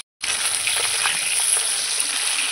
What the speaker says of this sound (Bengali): দুটো মাছ প্রথমে ভেজে নেব।